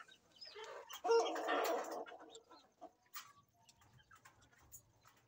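A small crossbred heritage flock of hens and stags makes a burst of close clucking and soft throaty calls. Sparse scattered clucks and a faint low hum follow in a quiet pen.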